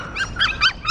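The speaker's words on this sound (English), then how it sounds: "Look at the puppy." A puppy whimpers in a run of short, high, thin whines, about four close together, with no talking over them.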